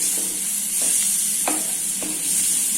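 Onions sautéing in hot oil for a Tamil-style egg pepper gravy, a continuous close sizzle with a few distinct scraping stirs of a spatula against the pan, no voices.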